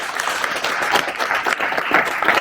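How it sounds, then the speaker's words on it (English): A crowd at a book signing and author meet claps for the author Felicia, a loud, dense and sustained round of applause, close and continuous with no speech over it. "Let's give Felicia another big round of applause."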